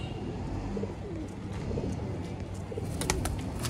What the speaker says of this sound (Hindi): सियालकोटी चूहे कबूतर